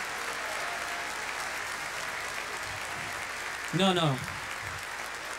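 Steady audience applause fills a men's conference hall, continuous clapping throughout, with a brief shout of voices rising near the end.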